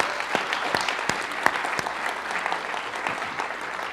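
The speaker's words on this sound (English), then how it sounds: "So another round of applause." An audience at a university panel discussion applauds steadily, a dense wash of many hands with a few sharper individual claps standing out, sustained at moderate volume throughout.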